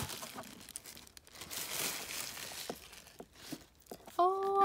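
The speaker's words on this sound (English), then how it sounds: "And it's all wrapped up in tissue paper." Tissue paper crinkling while a Pandora gift box is unwrapped: soft, irregular crackles and rustles close by, with a few sharper crunches and a brief tone right at the end.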